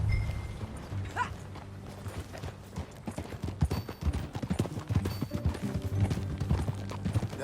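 Horse hooves clip-clop at a steady riding pace in Red Dead Redemption 2, with tack creaking and rattling along. The sound stays close and continuous under a soft low ambient hum.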